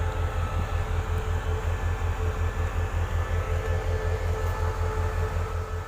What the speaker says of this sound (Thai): จะเป็นบรรยากาศของสถานีรถไฟนครลำปางนะครับท่ามกลางฝนตกปล่อยๆนะครับ